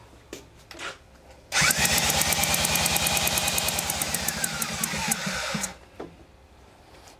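A Suzuki 9.9 HP or Evinrude 6 HP outboard motor is cranked over for several seconds, a loud rapid rhythmic chugging of the starter turning the engine that stops abruptly; quiet before and after.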